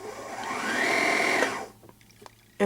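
A sewing machine without thread in the needle runs at close range, whirring up to a steady hum that rises slightly in pitch, then stops abruptly and leaves a few light clicks and a final knock.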